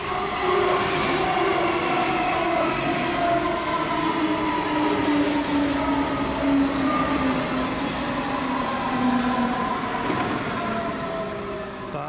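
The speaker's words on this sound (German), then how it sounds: "Und ein bisschen weiter links, wenn die S-Bahn durch ist." An S-Bahn commuter train passes at Stuttgart Feuerbach, its steady loud rumble and rolling wheel noise mixed with sustained tonal whines and light squeals, continuing throughout with no talking.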